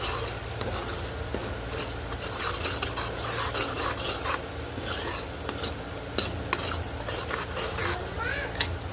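Salted, spiced curd being stirred into a capsicum curry in a pan, with continuous close scraping and rubbing of a spoon, occasional metallic clinks and a low sizzle beneath, over a steady background hum.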